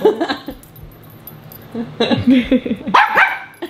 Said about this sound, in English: you know you're barking